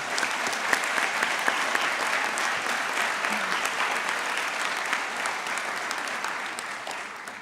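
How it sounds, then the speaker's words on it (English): An audience at a National Honor Society induction ceremony applauds steadily, a dense wash of many hands clapping at even loudness throughout, easing slightly toward the end. "Please join me in thanking them with a round of applause."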